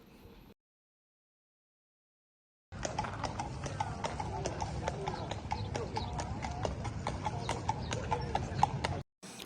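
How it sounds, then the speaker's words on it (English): A horse-drawn carriage in Interlaken rolls along with a steady, rhythmic clip-clop of hooves that starts after a silent gap and continues evenly for several seconds. "Ride through Interlaken in a horse drawn carriage"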